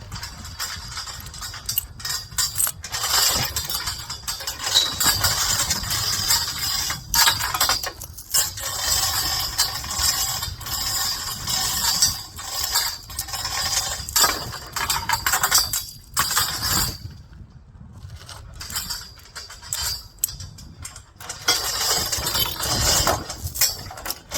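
Steel chain slings being undone on a steel stillage, with repeated metallic clinks and rattles of chain links against steel over a steady mechanical background hum.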